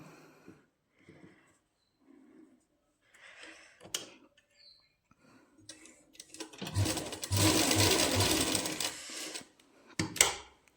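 Sewing machine stitching a salwar seam through fabric and lining, heard as a loud steady whirring burst of a few seconds after quiet handling noises, then a sharp click near the end.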